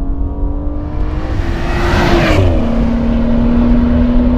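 A tuned 440 HP Dinan S3 BMW M235i accelerates hard, its engine note rising steadily before dipping sharply as the ZF 8-speed automatic shifts up, then climbing again, loud and close from inside the car.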